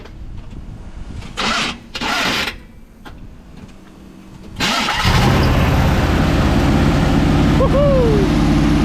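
A 1979 Chevrolet C10 pickup truck cranks with a few bursts, then fires up and settles into a loud, steady engine rumble as it drives off, close by, with a brief squeal near the end.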